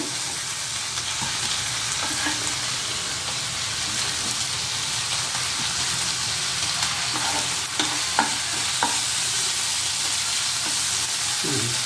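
Ginger paste frying in a pan, a steady, fairly loud sizzle with a few scattered pops and scraping stirs, going on alone without any talk throughout.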